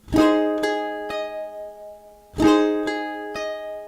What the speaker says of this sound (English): that's how the G sounds.